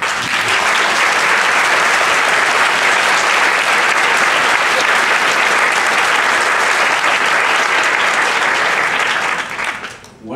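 Loud, dense audience applause at a human rights lecture, sustained at full strength for about ten seconds before tapering off at the end.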